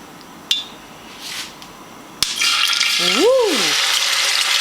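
Marinated pork chops going into a hot pan, with a sudden loud sizzle that settles into steady frying hiss; a whistle-like rising and falling tone rings briefly over it.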